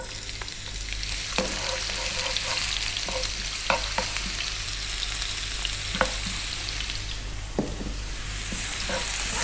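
Ginger cut into sticks sizzles fiercely in oil over high heat, a dense, continuous frying hiss dotted with scattered pops and occasional scraping as it is stirred, close and loud, with nobody talking.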